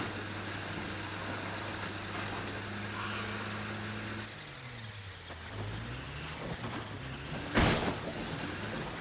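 A car drives through the Lethal Zone in the video game State of Decay 2, its steady engine hum shifting pitch midway as it slows and picks up again, with a sharp impact thud near the end; no talking.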